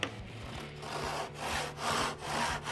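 A hand saw cuts timber held against a bench hook, with steady back-and-forth rasping strokes in an even rhythm, close and clear with no talking.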